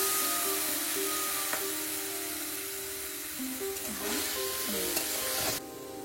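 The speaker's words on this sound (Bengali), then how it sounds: "সর্ষেটা ফুটে উঠেছে, এবার আমি এই পান্তা ভাতটা পুরোটাই দিয়ে দেব" Soaked leftover rice (panta bhat) tipped into hot mustard oil with spluttering mustard seeds, giving a steady close sizzle with stirring and scraping over a cooking hum, ending in a sudden drop.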